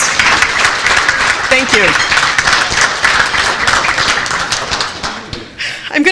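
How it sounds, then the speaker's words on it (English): Audience at a village state-of-the-village address applauding the Park District: loud, dense clapping that holds steady, then thins and tapers near the end as a voice speaks briefly over it. "let's give our Park District a round of applause"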